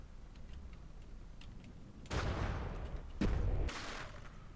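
Ship guns fire in the naval combat game From the Depths: two heavy, booming blasts about a second apart, each rolling out into a rumbling tail over quiet background ticking.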